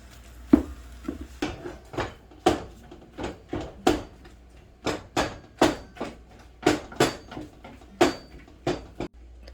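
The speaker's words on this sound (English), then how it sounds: "we're just going to keep stirring our cauldron here, getting this meat cooked" A utensil scrapes and knocks around a large cauldron of cooking meat, giving a steady series of sharp, close clinks and thuds at a quick, uneven rhythm with quiet gaps between strokes.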